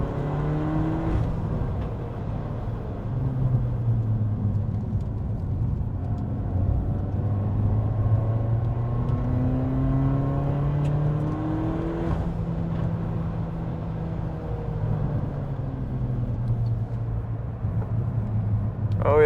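Peugeot 308 GTi engine driven flat out around Anglesey Circuit, a steady in-car drone with rising and falling revs through gear changes, continuous and loud throughout.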